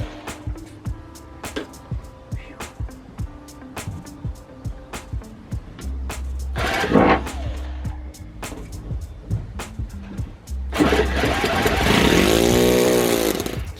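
Saito FA-40 Mk 1 four-stroke model engine, being started after years unused, fires in rapid ticking pops that build into a loud, continuous buzzing run at close range.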